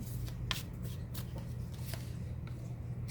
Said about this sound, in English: Okay, I'm gonna grab one more card.